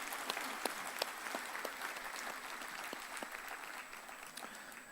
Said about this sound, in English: I think we should give a hand of applause to this panel.